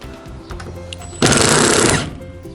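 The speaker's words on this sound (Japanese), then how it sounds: "インパクトドライバーで外していきます。" An impact driver removes screws from a carport panel's upper frame, a brief loud burst of rapid hammering whirr lasting under a second, preceded by small clicks and handling noises nearby.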